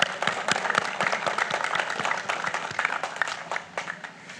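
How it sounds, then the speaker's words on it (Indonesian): Crowd at a victory parade for Indonesia's SEA Games cycling team clapping for the athletes, a moderately loud scatter of individual claps that gradually thins and softens toward the end. "kita berikan tepuk tangan"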